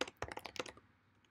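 Fingers tap a computer keyboard to type a short message, a quick close burst of about a dozen clicky keystrokes that fades into quiet.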